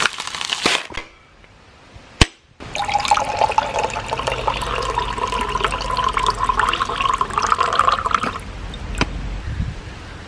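Water is poured into a pan of prawns cooking with curry leaves and turmeric, a continuous splashing pour lasting several seconds after a couple of sharp knocks, close and fairly loud.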